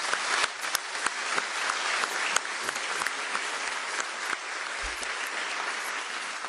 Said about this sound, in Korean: 우리 한번 감사와 격려의 박수를 드립니다